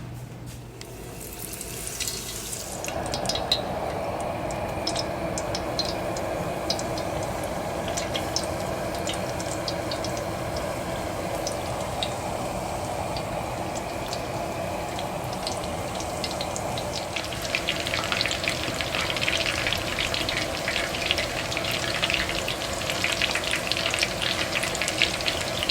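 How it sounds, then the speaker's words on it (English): Batter-coated coconut shrimp drop into a pot of hot oil and sizzle with a continuous, dense crackling hiss that grows brighter and busier partway through and holds steady close by. "so we're gonna go ahead and fry these"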